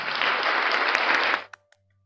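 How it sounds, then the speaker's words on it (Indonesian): A church congregation claps in a dense burst of applause at a worship service, loud and close for over a second before it cuts off abruptly, with a couple of stray claps after. "Berikan tepuk tangan Tuhan."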